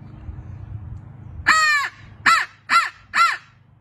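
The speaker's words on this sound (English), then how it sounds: "Okay, so here's a crow call. A lot of diaphragm pressure to blow this." A hand-blown crow call used for turkey hunting, pushed with heavy diaphragm pressure, gives four loud, harsh caws in quick succession, the first one longer, over a quiet low background hum.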